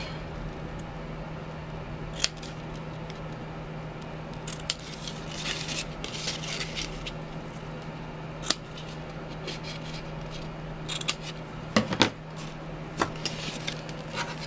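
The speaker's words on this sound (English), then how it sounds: "Let me just cut the ribbon real quick." Scissors cutting ribbon while making a gift box, a few crisp snips and clicks scattered over quiet room tone and a low hum, with light handling rustles in between.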